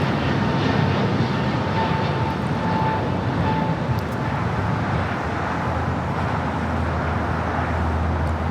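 An SAS Airbus A350 jet at Los Angeles International Airport produces a loud, steady, broad engine roar that persists unbroken throughout.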